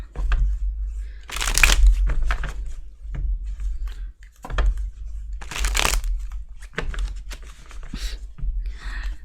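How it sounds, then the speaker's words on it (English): Tarot cards are shuffled by hand in repeated crisp riffling bursts with soft taps and pauses between them, loud and close, with no talking. "Can we shuffle properly?"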